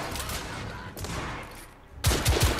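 Gunfire in The Order: 1886 video game: a short flurry of rapid shots, fairly close, with a sharper, louder burst of three quick shots at the end.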